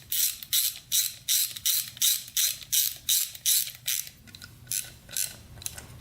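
A ratchet clicks in rapid rhythmic bursts while bolts are tightened on the stator plate of a 1996 Suzuki RM125 dirt bike, close and clear with no talk.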